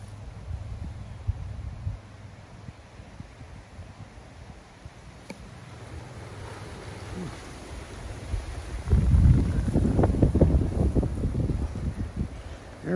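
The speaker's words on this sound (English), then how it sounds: "Now you can hear the wind." Hurricane Ian wind blowing outdoors in a yard: steady broadband rushing that swells louder and gustier in the second half, buffeting the microphone, with no talk.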